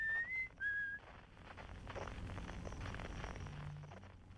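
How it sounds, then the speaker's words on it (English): Whistling from Esker on the moon in the video game Outer Wilds, a few thin clear whistled notes heard at first, then a steady low rumbling hiss of ambient game sound. "The whistling man on the moon."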